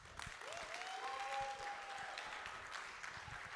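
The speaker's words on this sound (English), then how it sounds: "let the applause thunder" Audience applause at the Kenya National Theatre during the KITFest launch, steady moderate clapping for several seconds with a cheering voice over it.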